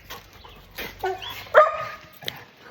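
Two dogs bark outdoors in the morning, giving three or four sharp, close barks spaced irregularly over a quiet background.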